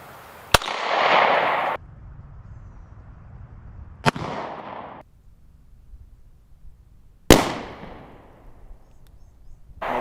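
Three sharp 9mm pistol shots fired outdoors at a 25-yard target, each a loud crack with a short echoing tail, spaced a few seconds apart with quiet ambience between.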